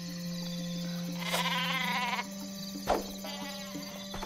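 A cartoonish super sheep from the Worms video game bleats in a wavering, warbling cry of about a second, then a shorter squeaky bleat follows, over a steady electronic game hum.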